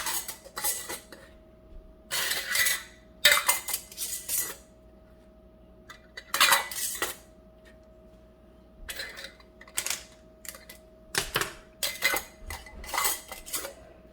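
Glass canning jars of sweet and sour pork clink and knock as they are set into a Presto Precise digital pressure canner, a series of sharp clattering bursts spaced out with quiet gaps between them.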